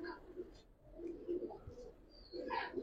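Giribaz pigeons coo in a low, repeated, soft burble of several overlapping calls, moderately close but quiet, with faint background noise and brief chirps near the end.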